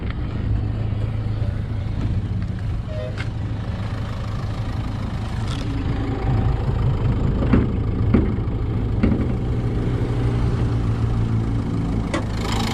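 A steady Renault Duster 1.5-litre K9K diesel engine idles close by with a low, even rumble and faint mechanical ticking, alone throughout with a few brief clicks.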